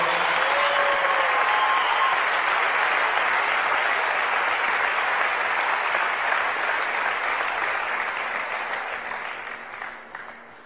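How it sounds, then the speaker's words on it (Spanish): Loud, sustained audience applause for Lili at a Spanish-language worship gathering, a dense wash of clapping holding steady before tapering off near the end. "Un aplauso para Lili"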